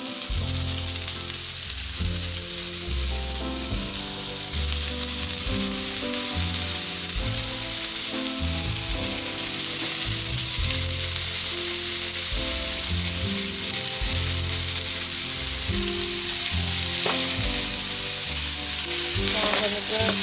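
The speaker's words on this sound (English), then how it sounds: "now we're just going to go ahead and start to add our ground beef" Ground beef sizzles steadily in a pan, a loud, close, continuous frying hiss, with a backing music bed running underneath.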